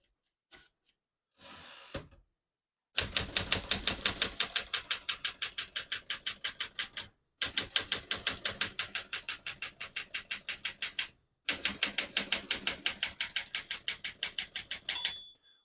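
Rapid mechanical key strikes on a 1964 Smith-Corona Galaxie manual portable typewriter clack in fast, even bursts separated by brief pauses, with a small margin bell ding near the end; close and crisp, no talking.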